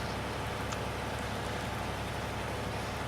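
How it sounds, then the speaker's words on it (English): Constant dense rain in Farming Simulator 19 during a countryside drive, a loud even hiss with no pauses or voices. "a nice rainy drive through the countryside"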